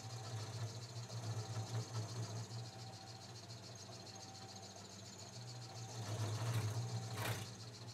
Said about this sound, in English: When I use a milling machine, generally speaking, I take two deeper cuts